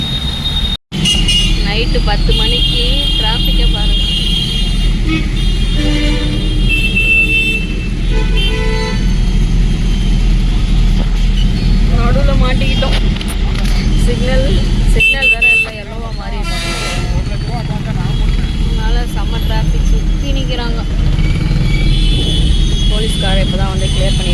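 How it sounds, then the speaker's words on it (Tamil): Busy road traffic at night around ten o'clock on a rainy day, a steady loud wash of passing cars with repeated horn toots scattered through, voices talking over it. "நைட்டு 10 மணிக்கு டிராஃபிக்கை பாருங்கள்."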